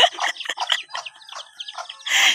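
A mother hen clucks in quick, choppy bursts close by, ending in a louder squawk, with no talking.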